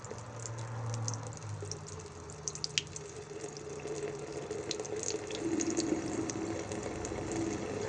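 Water splashing and pouring steadily into a garden pond as crucian carp are released, a continuous close patter with small drips and no voices.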